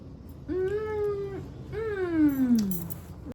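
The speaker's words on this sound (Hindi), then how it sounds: "अलेक्सा कैट की आवाज सुना दे मेरे स्वरित को।" Two long, drawn-out cat meows, close and clear, played by an Alexa smart speaker, the second one sliding downward in pitch, with a short pause between them.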